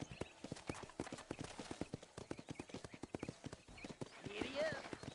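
A horse gallops in the Red Dead Redemption video game, its hooves clip-clopping in a quick, steady rhythm throughout. A brief neigh comes near the end, and no one speaks.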